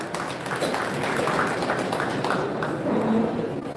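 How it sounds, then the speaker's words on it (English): An audience at a mentorship summit in Kano gives another round of applause, a steady mass of clapping hands filling the hall at moderate volume without a break. "Please, another round of applause"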